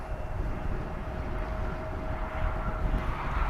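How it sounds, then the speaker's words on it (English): An American Airlines jet arriving at DFW Airport, a steady broad roar of engine and airflow holding at moderate loudness throughout, with a faint sustained whine running beneath it. "Got American Airlines flight 2435 coming in from Savannah, Georgia."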